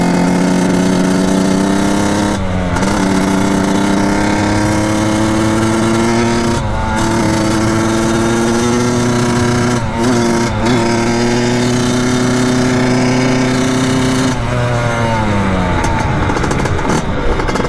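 A Kawasaki KX 80 dirt bike fitted with a 110cc big bore kit runs loudly and close by, its engine note rising and falling through repeated revs and gear changes, with no talk over it.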